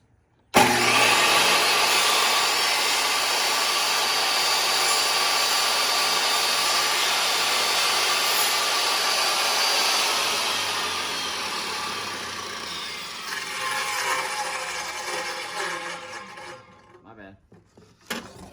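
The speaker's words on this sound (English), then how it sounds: "now he's cutting it down to like the precise measurement he needs for the chalkboard with the table saw" A table saw cuts plywood to size, running loud and steady for about ten seconds, then easing lower and rougher before spinning down to silence.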